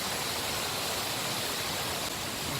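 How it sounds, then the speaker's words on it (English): Waterfall in South Wales heard from right at its base, a dense, loud, constant roar of falling water without breaks or voices. "Right at the bottom of this waterfall."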